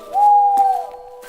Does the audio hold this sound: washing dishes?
no